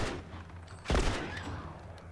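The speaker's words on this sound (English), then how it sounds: "I'm trying to shoot him in the legs." A single gunshot rings out in The Last of Us, aimed at an enemy's legs, loud and sharp with a short echoing tail against a low background rumble.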